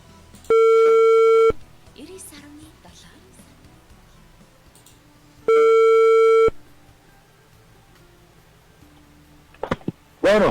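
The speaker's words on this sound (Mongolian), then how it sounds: "утас руу дуудлага хийж байна" Two long ringback tones of an outgoing phone call to a relative in Töv province, each lasting about a second and spaced several seconds apart, with faint background noise and brief clatter near the end.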